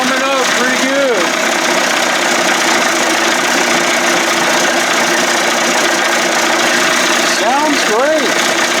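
A 1989 Johnson Tracker 25hp outboard motor warming up, a steady close idling drone with a faint knocking rhythm running throughout, briefly overlaid by a voice at the start and near the end.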